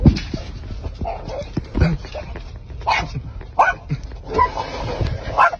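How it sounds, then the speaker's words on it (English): A dog barks and whimpers in a series of short yips and whines, close and fairly loud, mixed with people talking and laughing nearby. "What the dog doing?"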